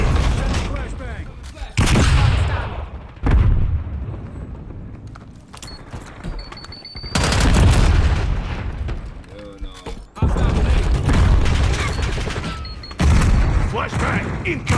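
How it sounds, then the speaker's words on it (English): Loud bursts of game combat erupt in a shooter video game, a flashbang grenade blast among repeated booming gunfire and explosions, with voice callouts between the hits. "Flashbang incoming!"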